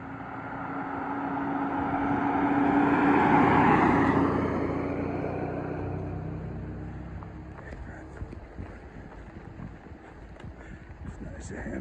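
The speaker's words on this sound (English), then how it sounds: "Car coming." A car passes by on the road at Neel Gap on the Appalachian Trail, swelling to a loud wind-blown rush near the middle and fading away, with breezy outdoor noise afterward.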